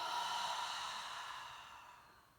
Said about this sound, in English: And open mouth, exhale.